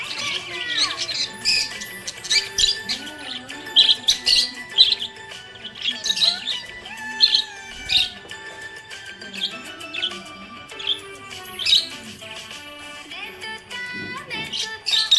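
A pet budgie chirps and squawks in quick, bright bursts throughout, fairly close, over steady background music.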